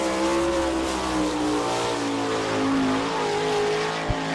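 Sprint race car number 4J, the Double L racing machine, screams around the All Star Circuit of Champions track at Attica, Ohio, a loud steady engine drone with slight pitch shifts and a brief thump near the end.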